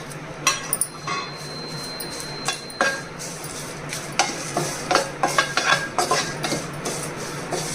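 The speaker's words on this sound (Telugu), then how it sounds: "ఇప్పుడు కరివేపాకు కూడా వేగించాలండి." Curry leaves fry in a pan with a soft, steady sizzle, broken by repeated scraping and clinking strokes of a stirring utensil, close and fairly quiet.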